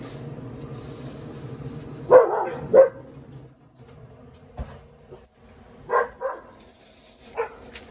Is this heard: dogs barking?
yes